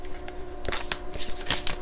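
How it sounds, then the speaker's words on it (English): Tarot cards shuffled by hand at close range, a quick run of soft riffling flutters and light slaps as cards are mixed and drawn, fairly quiet with no talk. "Let's grab maybe a couple more cards from here."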